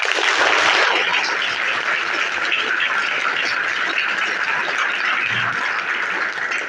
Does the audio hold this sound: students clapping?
yes